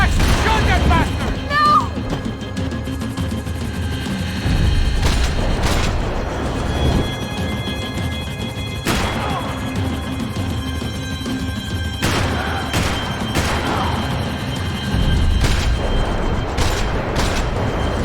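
Max Payne 3 gameplay with repeated gunshots and heavy booming impacts during a vehicle chase, sharp bursts scattered across a dense action soundtrack as characters shout over the noise.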